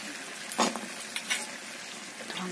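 Potatoes cooking in a pan, a soft sizzle under a few sharp scrapes and clinks of a spoon stirring against the metal, faint and close.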